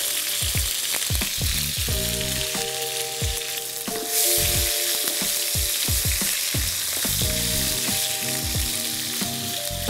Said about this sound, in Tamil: ஸோ தக்காளி வந்து கொஞ்சம் நல்லா வதங்கட்டும்.